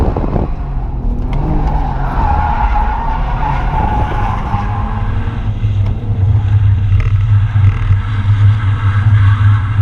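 A BMW E36 drift car slides with continuous tire squeal and skidding, its engine droning underneath throughout, loud and close with no voices.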